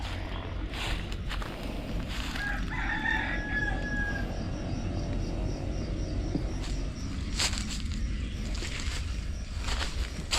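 Rooster crowing among farm chickens, one short crow rising out of a busy outdoor background of rustling and clucking noises, moderately near but not very loud.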